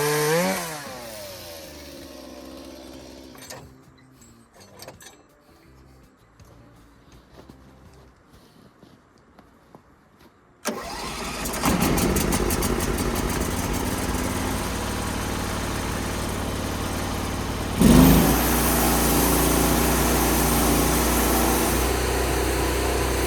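An HD36V2 chainsaw mill cutting a frozen white oak crotch log. The engine is heard winding down and going quiet, then starting up and settling into a loud, steady run that revs higher near the end.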